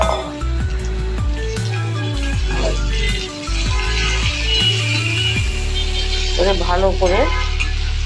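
Taro stolons frying and being stirred in a pan with onion, garlic and green chillies: steady close sizzling, spatula scrapes and clinks, with someone speaking briefly over the cooking.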